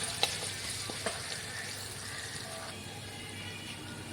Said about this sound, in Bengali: তাই এটাকে একটু হালকা করে নাড়িয়ে নিচ্ছি